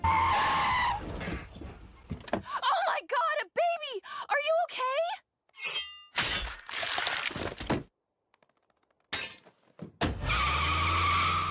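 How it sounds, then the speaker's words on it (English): Cartoon car in an animated comedy scene, hijacked Grand Theft Auto style and speeding off, with tire skids and engine bursts cutting in between bits of voices and effects, loud and close. "Evil Stewie then storms outside, hijacks a woman's car Grand Theft Auto style, and speeds off."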